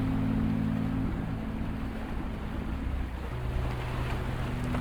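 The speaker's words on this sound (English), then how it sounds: "Steaming floods conquer your bathroom." Continuous rushing water floods a bathroom in the video game Psychotic Bathtub, a dense, even wash over low sustained hum tones that shift partway through, with no voices.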